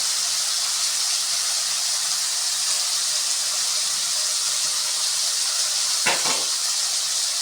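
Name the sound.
tomatoes sautéing in oil for fish curry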